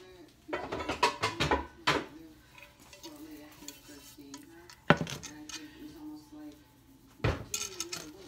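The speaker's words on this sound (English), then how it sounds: "So I'm going to get out a pan." A pan being taken out in a home kitchen, clattering metal knocks and clinks in a few separate bursts, with a person speaking softly between them.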